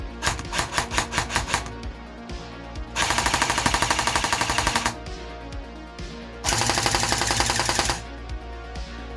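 AK rifle firing on semi-automatic, loud close shots in bursts: a quick string of separate cracks, then two long stretches of rapid, evenly spaced fire with pauses between them, and no talking.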